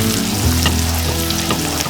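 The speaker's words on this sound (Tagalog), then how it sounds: "mag-gisa na kayo ng bawang at sibuyas." Garlic and onion sautéing in melted butter and chicken oil, a steady close sizzle and crackle that holds for the whole stretch with no voices.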